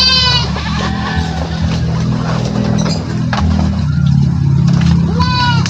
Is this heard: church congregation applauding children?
no